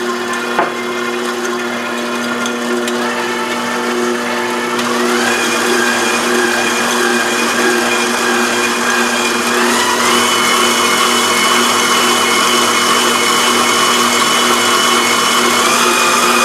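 Electric mixer whipping meringue with sugar and cocoa powder, a steady loud motor whir running unbroken throughout, its pitch shifting slightly partway through as the beaters work the mix.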